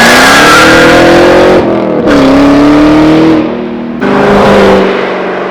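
A car at an auto gallery revving hard in a rollout, very loud and close, with engine pitch climbing through several gears. Short dips between pulls mark the shifts, and no one talks.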